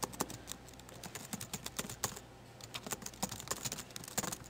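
Rapid typing on a computer keyboard, a steady run of close, crisp key clicks with uneven rhythm and brief pauses, heard alone without any voices.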